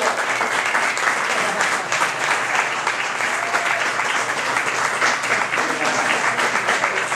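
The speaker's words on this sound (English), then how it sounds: "Another round of applause." Sustained, dense audience applause fills the room at a film camp event, loud and even throughout with no letup.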